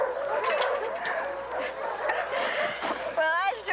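Several dogs barking in bursts at close range, with a person speaking and chuckling over the barks and a final high yelp or whimper.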